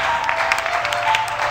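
Church congregation clapping steadily, a dense even patter of many hands filling a worship hall, continuous and fairly loud with a faint sustained tone underneath.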